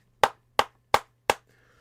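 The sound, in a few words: single hand clap used to sync audio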